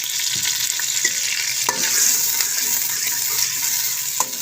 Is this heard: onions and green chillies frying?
yes